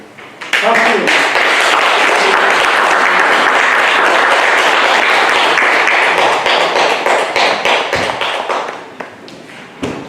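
An audience at a Won Buddhist temple lecture claps to welcome a speaker, a loud, dense burst of applause that starts abruptly, holds steady and then thins out near the end.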